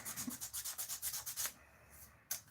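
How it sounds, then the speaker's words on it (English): A wooden sword with a super glue finish is sanded by hand in quick, even back-and-forth strokes, close and fairly soft, then a pause and one last stroke. "I've got to sand this pretty good now and try and get rid of a bunch of those spots"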